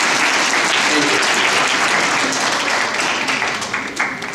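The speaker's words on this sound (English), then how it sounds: "Can I get a big round of applause for everyone who contributed to this success of this today's graduation ceremony?" A graduation ceremony audience gives a loud, dense round of applause that holds strong for several seconds before starting to thin and fade toward the end.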